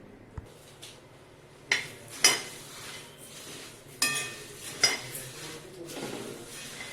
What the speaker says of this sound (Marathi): चाळणीने हे चाळून घेऊया आणि नंतर आपण हे कढईमध्ये भाजून घेऊया